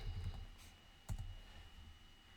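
Keys on a computer keyboard are typed in a quick burst of soft, close clicks, then one sharper click, over a faint steady hum.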